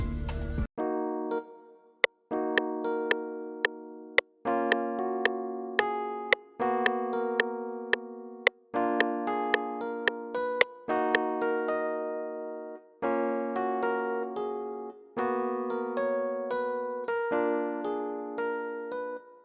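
A Rhodes electric piano plays offbeat chords in an Afrobeat style, landing just after the beat. The clean, bell-like stabs repeat in a steady rhythm, each note decaying quickly, with no other instruments or voices.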